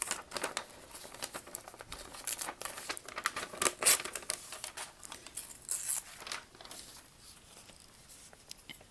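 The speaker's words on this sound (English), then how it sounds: "So I have been ripping it" Brown paper being torn by hand for a collage animal in an art class, a series of close, quiet rips and crinkles in irregular bursts, with one sharper tear midway.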